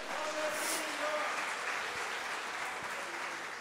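Church congregation applauding during a worship service, a steady wash of clapping from many hands with faint voices and tones mixed underneath, sustained throughout.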